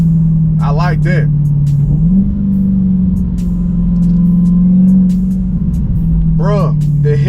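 A 2021 Dodge Challenger SRT Hellcat with its supercharged engine running close by, a loud, sustained drone that rises slightly in pitch and holds, while someone talks over it at the start and end.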